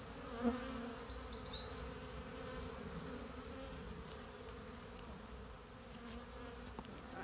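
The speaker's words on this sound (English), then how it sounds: "Lots of bees." Honey bees swarm over frames in an open hive, a dense steady hum filling the clip from start to finish, with a few sharper buzzes of single bees flying close by.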